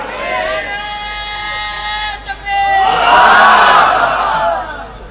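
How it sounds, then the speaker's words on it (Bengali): A large crowd loudly chants in unison at a religious sermon gathering, a sustained swelling roar of many voices rising over a preacher's amplified speech and holding strong before fading. "আল্লাহ কবুল করুন, জোরে বলে আমিন।"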